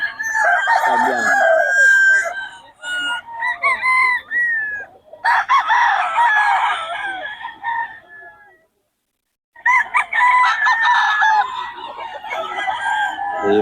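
A young rooster crows loudly and close in repeated drawn-out calls with clucking, pausing briefly before crowing again.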